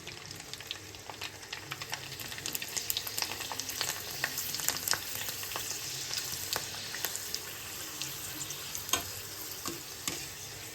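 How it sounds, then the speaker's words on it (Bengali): Sun-dried rice papad fries in boiling oil, giving a dense, steady crackling sizzle with many tiny pops that runs continuously and close, no voices over it. "এইবারে এগুলোকে একদম ফুটন্ত তেলে আমি ভেজে নেব"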